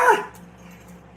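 A single short bark from a pet dog in a home workout space, loud and close at the start, then fading into quiet room noise.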